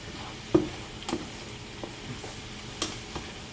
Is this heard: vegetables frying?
yes